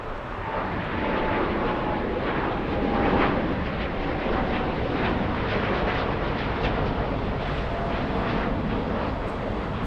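A United Airlines Boeing 787 airliner at Los Angeles International Airport, heard as a broad, steady jet roar that stays loud and continuous for the whole stretch, with no talk.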